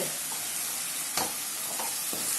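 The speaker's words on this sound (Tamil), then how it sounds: "நல்லா கிளறிட்டா சூப்பரான வெண்டைக்காய் பொரியல் தயாராகிடுச்சு" A pan of okra stir-fry (vendakkai poriyal) sizzles steadily and loudly, with a few scraping stirs of a spatula cutting through the frying hiss.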